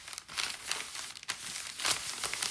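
Sheets of old handmade Japanese paper are crumpled and handled close up, giving dense, crackly crinkling with a few sharper crunches, fairly quiet and with no voices.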